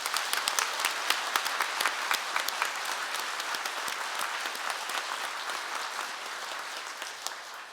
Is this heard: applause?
yes